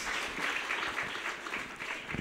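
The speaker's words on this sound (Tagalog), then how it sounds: "Tayo po muna ay pumalakpak sa pinakamamahal na Panginoon." A church congregation claps together during a worship service in Rosario, Batangas, a continuous soft wash of many hands heard at a distance.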